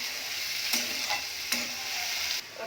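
Tomato and onion frying in a pan for Bengali khichuri, stirred with a utensil: a steady sizzle runs throughout, broken by a couple of sharp scraping stirs, with no talking.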